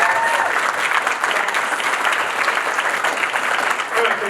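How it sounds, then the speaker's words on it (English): Audience at a NAHREP session applauding, a dense, steady wash of clapping from a sizable crowd held throughout. "So a big applause to you guys."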